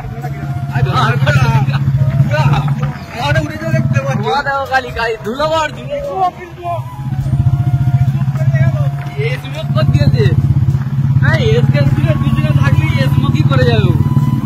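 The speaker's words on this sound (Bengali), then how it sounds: "আমরা ফটফটি নিয়ে যাচ্ছি, ফটফটি।" Constant engine drone of a motorbike underway through a village, with a low steady hum, while people talk loudly over it.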